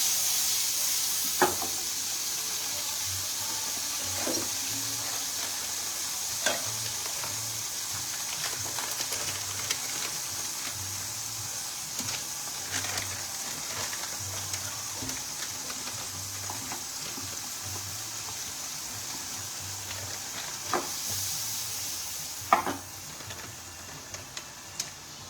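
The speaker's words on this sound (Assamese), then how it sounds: "পেনখন গৰম হৈ আহিছে। এতিয়া মই তাতে এড কৰিম বাটাৰ, আমুলৰ বাটাৰ এড কৰিলোঁ আৰু লগতে পনীৰখিনি মই" Paneer fries in Amul butter in a hot pan, giving a soft, steady sizzle with occasional sharp pops and clicks of stirring, quiet and close, without talk.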